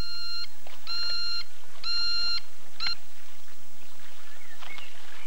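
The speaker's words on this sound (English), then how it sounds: "there's this one here, which is the bleeper, which was used in Russia with Love" The bleeper gadget from From Russia with Love sounds a series of sharp electronic beeps, four clear tones in an uneven rhythm followed by fainter chirps, loud and close with no talk.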